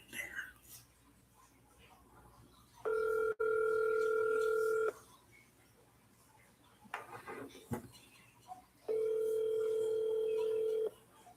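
Telephone call ringing out unanswered, two long steady electronic ring tones separated by a pause, with faint whispering and handling sounds in between.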